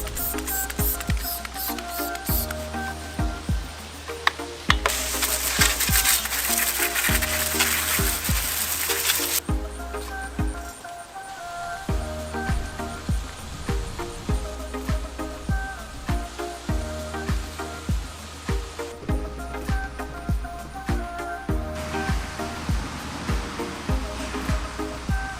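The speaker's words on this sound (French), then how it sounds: "On va rincer le vélo" Water sprays onto a bicycle during a rinse after degreasing, a loud continuous hiss with a steady noisy texture and a brief break partway through, close by and without talk.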